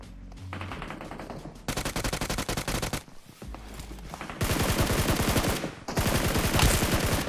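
Rapid automatic gunfire from the mobile battle royale game BGMI rattles in long, loud bursts, separated by brief pauses, with the shots close and dominant throughout.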